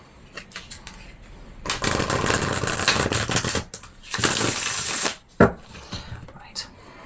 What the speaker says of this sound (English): Just give this a quick shuffle.